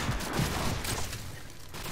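Assault rifle gunfire in a multiplayer team deathmatch shootout, rapid overlapping shots and distant bursts forming a continuous fusillade at moderate loudness, with no talk.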